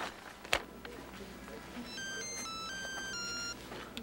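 An electronic phone ringtone trills in repeated tonal bursts, mid-level and close, over a faint room background.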